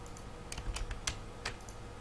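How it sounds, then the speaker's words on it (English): Several crisp computer keyboard keystrokes tap out at an irregular pace while working in 3D editing software, close and clear over a low background hum. "I'm just moving it via hitting G on my keyboard"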